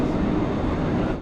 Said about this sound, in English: And here comes our train for today, hauled by this České dráhy Siemens Vectron Class 384 electric locomotive.